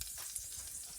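Soaked cumin seeds sizzle in hot oil on a gas stove as a tempering is made, a steady, close hiss with faint crackles and no talking.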